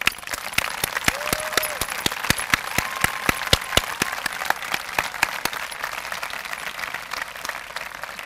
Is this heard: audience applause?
yes